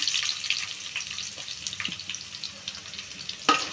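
Crushed garlic sizzles in a pan of frying spices with curry leaves, a close crackling hiss with scattered small pops and a sharper clatter near the end.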